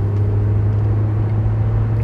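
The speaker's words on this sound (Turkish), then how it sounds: "Bir daha motor sesini duyalım mı?" A 2005 Renault Modus car engine idles steadily nearby, a smooth low hum with a constant tone and no voices.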